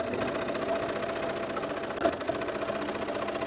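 Sewing machine running steadily through a cloak seam, a continuous close mechanical hum with even vibration and one brief louder bump near the end, with no talking.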